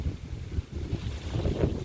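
Strong wind blows in a short, steady low rumble of gusts buffeting the microphone, moderately loud with a slight swell toward the end.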